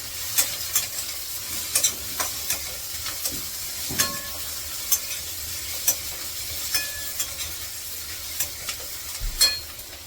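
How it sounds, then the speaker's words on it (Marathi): Onion, tomato and sesame seeds sauté in a pan with a constant soft sizzle, punctuated by regular clicks and scrapes of a spoon stirring close by, with no talking. "दोन चमचे तीळ घेतले यामध्ये ते पण टाकते अर्धा मिनिटभर सुद्धा परतून घेते"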